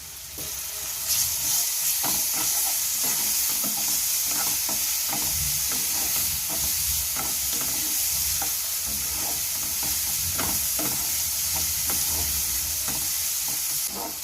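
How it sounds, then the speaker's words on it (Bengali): Garlic paste sizzles in hot oil over browned onions while cooking mutton curry with potatoes, a dense, continuous frying hiss broken by regular stirring scrapes of a spoon against the pan. "রসুনটা আমার ভাজা হয়ে গেছে"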